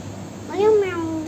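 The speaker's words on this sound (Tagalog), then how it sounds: "Ano yung meow?" A single short cat meow, rising then falling, sounds close and clear over a low background hum, with no talking over it.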